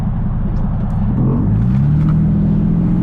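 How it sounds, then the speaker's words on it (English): Turbo diesel Mercedes accelerating at full throttle, a loud close engine drone rising steadily in pitch as the turbo spools up, with no talking. "We'll be able to really hear this turbo sing."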